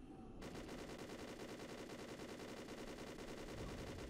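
A continuous rapid burst of automatic gunfire from the Halo Mercury Rising game mod rattles steadily and densely from start to finish, loud and unbroken.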